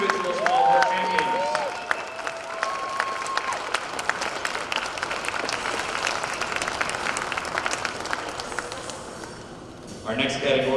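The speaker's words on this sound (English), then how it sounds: "let's give a round of applause for your 2023 National Collegiate Individual Small Bore Champions" Sustained applause from a large audience honoring the 2023 NCAA collegiate individual smallbore rifle champions, dense steady clapping for about nine seconds that thins and nearly fades before a brief renewed burst, with faint crowd murmur underneath.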